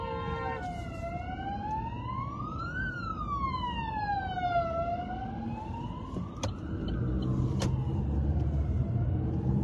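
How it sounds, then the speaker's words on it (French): A loud ambulance siren sweeps up and down as the vehicle goes by, accompanied by passing car engine noise and a couple of sharp clicks, with no talking. "Il y a l'ambulance."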